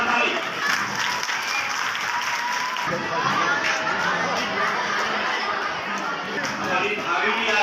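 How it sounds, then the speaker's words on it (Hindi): Loud, sustained applause from a crowd at a school farewell ceremony for a teacher, held during a garlanding, with dense steady clapping mixed with crowd chatter throughout. "जोरदार ताली।"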